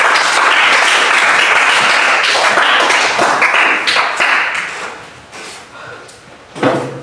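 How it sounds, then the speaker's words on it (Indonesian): An audience claps for a student group at a Catholic religious education teacher training session, loud dense clapping that thins out and fades toward the end before a short louder burst. "Mari kita berikan aplaus untuk kelompok 3"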